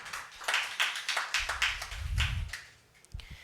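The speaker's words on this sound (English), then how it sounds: "A huge round of applause for our speaker for today." Applause from an audience at an art talk, a burst of quiet, fairly distant clapping lasting a few seconds before it fades out.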